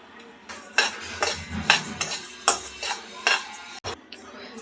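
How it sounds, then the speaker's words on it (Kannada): A metal spoon scrapes and clinks against a pan while laddu ingredients are stirred and fried over a low flame, in a steady rhythm of sharp taps and scrapes with a faint sizzle underneath. "ಇದನ್ನೆಲ್ಲ ಇಂಗ್ರೀಡಿಯೆಂಟ್ಸ್ನೆಲ್ಲ ಇದಕ್ಕೆ ಹಾಕ್ಕೊಂಡು ಸಿಮ್ಮಲ್ಲೇ ಇಟ್ಕೊಂಡು ಇದನ್ನು ನಾವು ಫ್ರೈ ಮಾಡ್ಕೋಬೇಕು"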